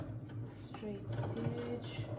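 A sewing machine runs a straight stitch on a fabric mask, a soft, fairly faint buzzing whir in short stretches, with a voice speaking over it.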